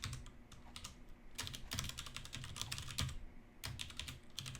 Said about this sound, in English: So for within there, I'm going to type Q application